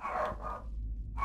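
Dogs in a ghost-hunting video game give a short bark or yip, followed by a brief quiet gap and another onset, fairly close and with no talk over it.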